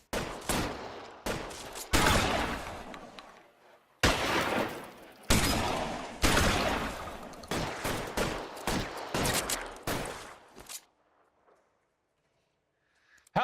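Gunfire from the video game LA Noire Remastered comes as loud repeated bursts and volleys of shots, closely spaced with brief gaps, before dropping to near silence at the end.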